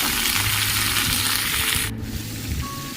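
Raw papaya hits hot oil already frying with garlic, giving a loud, dense, steady sizzle that drops suddenly near the end and continues more quietly afterward, with no voices.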